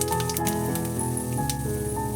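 Whole cumin, bay leaf, dried chilli and whole garam masala sizzle in hot oil, a continuous close crackle and hiss holding steady throughout.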